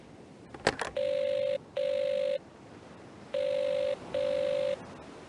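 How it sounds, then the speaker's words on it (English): A telephone rings in two pairs of sustained double rings after a brief click, loud and clear against a quiet room in the Agatha Christie game Evil Under the Sun. "Phone isn't much good if no one will answer it."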